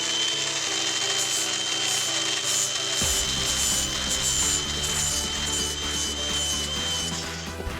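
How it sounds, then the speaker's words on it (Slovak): An angle grinder sharpens a lawn mower blade with a loud, steady abrasive whine, and the pitch and load shift partway through as the disc bites into the metal edge. "ukážem vám, ako to robím s tou brúskou."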